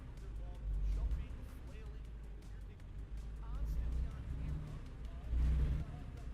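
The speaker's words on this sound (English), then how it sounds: "the air conditioning's so loud right now" Loud room air conditioning runs throughout as a steady low rumbling drone with a broad airy hiss that swells slightly at moments, while a voice occasionally murmurs over it.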